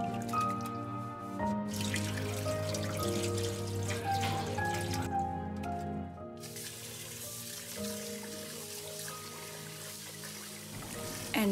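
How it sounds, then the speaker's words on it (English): Soaked sticky rice is rinsed in a metal strainer, with water trickling and dripping close by in uneven splashes. "And wash two or three times or until the water is clear."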